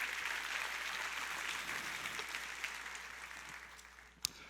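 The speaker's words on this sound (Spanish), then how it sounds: "Dale más fuerte ese aplauso al Rey" A church congregation applauds steadily throughout, a dense, even wash of clapping that fades slightly toward the end, punctuated by one sharp knock near the close.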